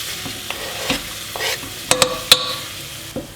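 Onion and garlic frying in a pan, a soft steady sizzle with scattered clinks and scrapes of a utensil stirring, several sharper knocks close by.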